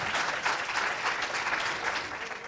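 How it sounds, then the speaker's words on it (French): An audience claps through a healthcare training brunch at a Red Cross centre in Tours, dense, even applause from many people that holds steady and thins slightly at the end. "Alors allez, on y va, on les applaudit."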